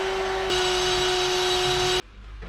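A power drill runs steadily for about two seconds, boring pilot holes for mounting bolts during work on a vehicle body dolly. The motor whine is loud and close, holds a constant pitch, and cuts off abruptly.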